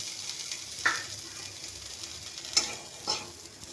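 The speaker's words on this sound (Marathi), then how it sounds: "आता आपण हे आलं थोडंसं भाजून घेणार आहे." Ginger roasts in a little oil in a pan for a Kolhapuri chicken dish, giving a soft continuous sizzle broken by three brief louder crackles or stirs, with no talking.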